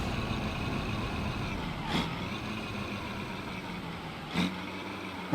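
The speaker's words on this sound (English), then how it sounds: "I like how it sounds when you rev match." A truck's engine rev-matches in the driving simulator BeamNG.drive over a steady engine drone, with two quick revs blipping up, one near the two-second mark and another near four and a half seconds.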